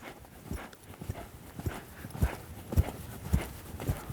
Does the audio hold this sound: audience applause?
no